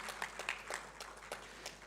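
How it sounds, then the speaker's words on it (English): Applause from an audience at an intellectual property institution launch event, a steady patter of many hands clapping at moderate distance, without spoken words. "Round of applause, ladies and gentlemen,"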